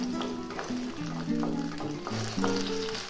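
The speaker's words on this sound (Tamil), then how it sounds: "இதில் 15 சின்ன வெங்காயம் சேர்த்துக்கோங்க. கூடவே 4 பல் பூண்டு சேர்த்து நல்லா வதக்கிக்கோங்க." Small onions and garlic cloves frying in hot oil in a kadai, a brisk continuous sizzle with repeated spatula scrapes and stirs, close and fairly loud.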